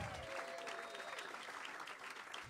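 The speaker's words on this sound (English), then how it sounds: "And a round of applause, of course, for Marty on sound." Audience applause at a live jazz concert, a steady wash of clapping from a small crowd heard fairly close, continuous throughout with a faint background voice.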